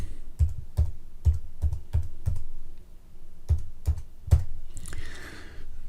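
Keys on a computer keyboard are tapped in a quick run of about a dozen distinct clicks, close and fairly loud, with a brief pause midway and a soft rustle at the end; no one speaks.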